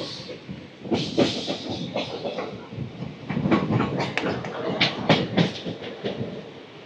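A passenger train running through Kerala, its wagons rumbling and clattering steadily with rhythmic clicks and hissing, loud and close throughout.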